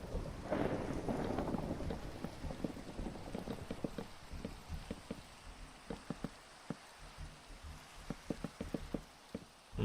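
Thunder rumbles and swells through a Minecraft thunderstorm, loudest in the opening seconds, while steady rain patters underneath with scattered sharp drips and taps continuing to the end.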